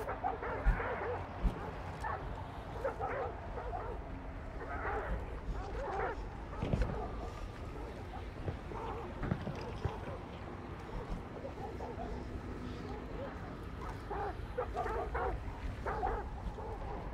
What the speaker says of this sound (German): Die Hunde bellen halt immer noch.